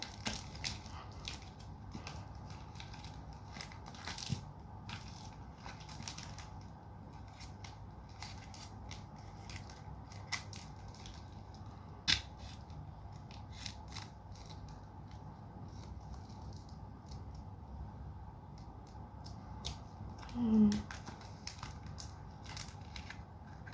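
Scissors cut a plastic sheet to make a mehndi cone, producing faint, scattered snips and crinkly creaks in a quiet room, with one slightly louder rustle near the end.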